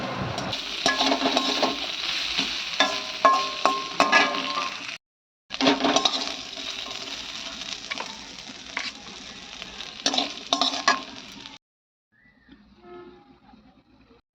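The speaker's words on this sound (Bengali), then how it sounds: "আর এদিকে আমি নারকেলটা ভাজা করে নিচ্ছি ততক্ষণে।" Grated coconut frying in a pan, a close, continuous sizzle with scraping stirs and crackles, broken by two brief silences, then a quieter stretch of faint clatter.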